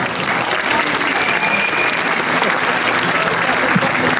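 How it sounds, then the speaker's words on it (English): Steady, dense applause from a large outdoor crowd at a Toronto soccer day event marking one year to the 2026 FIFA World Cup, loud and continuous throughout with faint crowd murmur beneath. "So a round of applause for them as well"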